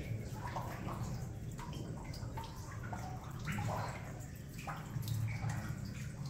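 Water trickles and drips steadily as it leaks through a hillside, a continuous close babbling flow with scattered splashy drips and no talking.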